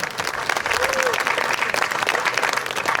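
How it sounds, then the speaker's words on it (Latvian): Audience applause fills a Karosta 135th anniversary celebration with a navy band: loud, dense, steady clapping from a crowd throughout, with no gaps. "Tāpēc aplaus viņam par ieguldīto Karostā."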